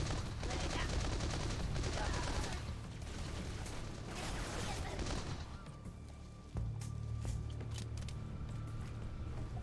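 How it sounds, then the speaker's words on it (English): Modded placeholder assault rifle in Halo 3 fires long sustained bursts with mechanical clatter, loud and close, pausing briefly before another steady stream resumes. "new assault rifle sound, which is kind of a placeholder right now, but I think it's effective enough"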